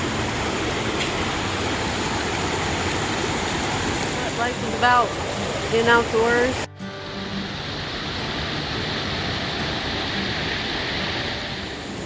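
Panther Creek Falls, a crowded waterfall on a Georgia hiking trail, pours in a steady broadband rush throughout, with people talking briefly over the roar near the middle.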